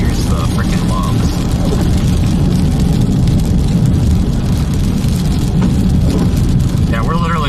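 Steady rain and road noise fill a vehicle driving through a winter snowstorm that has turned to rain, a dense, continuous wash that never lets up.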